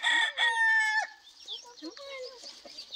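Chickens being moved into a new pen on a farm cluck while a rooster crows loudly and close at the start, followed by scattered softer clucks and calls.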